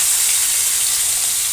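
Chopped onion sizzling in hot oil with dried red chillies and whole cumin, a loud, steady, bright frying hiss that fills the whole moment close up, with no voices.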